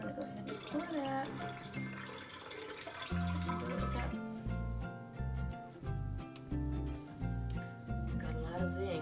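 Freshly squeezed lemon juice, about half a cup, is poured for a homemade ginger tonic, a light liquid trickle over the first few seconds that is partly masked by background music with deep bass notes.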